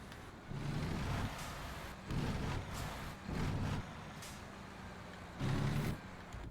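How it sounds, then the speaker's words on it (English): A heavy truck engine in American Truck Simulator idles and revs in several loud, swelling bursts, with hissing air-brake releases between them and no talk over it. "Wow, this engine sounds much different."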